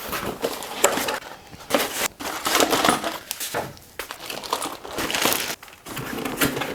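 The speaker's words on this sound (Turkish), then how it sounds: "Şimdi kutuyu açmaya geçelim." Cardboard and plastic packaging of an XPG Summoner gaming keyboard box crinkles and rustles in repeated close bursts of handling as the box is opened.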